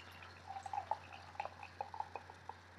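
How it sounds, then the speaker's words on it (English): Russian River Pliny the Elder double IPA poured into a glass, faint close trickling and splashing with small irregular dripping blips over a quiet room hum. "here's the pour on the Pliny the Elder"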